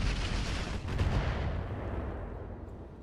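Missile salvos launch and strike in the RogueTech mod of the BattleTech game, a dense roar of rumbling explosions that swells around the middle and then slowly fades.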